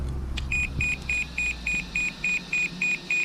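A steady series of short, high-pitched programming beeps from a Bison V2 electronic speed controller, about ten evenly spaced, sounding close and clear over a low background hum.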